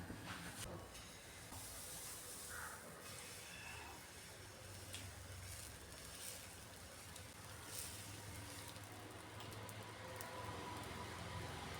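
Wheat appam batter goes into a hot pan and hisses in a dense, continuous steamy sizzle that holds steady and fairly loud for the whole stretch, with no voices over it.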